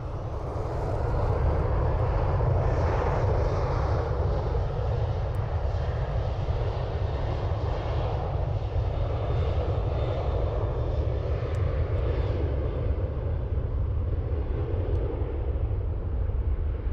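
A Ryanair airliner departs Dublin Airport with a loud, continuous engine roar that stays strong and steady for the whole stretch, heard from nearby outdoors.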